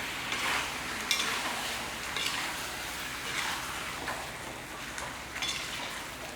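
Onions and green chillies sauté in a pan with a steady, moderately loud sizzle, broken every second or so by the scrape and clack of a spoon stirring.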